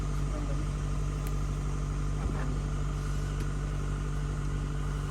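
A steady car engine hum runs throughout, a constant low drone like a car idling nearby in a Canadian winter, with faint background noise and a brief knock in the middle.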